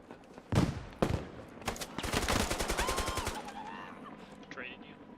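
Automatic gunfire in a video game: a few single shots, then a long rapid burst of evenly spaced reports, loud and close, with voices talking over it.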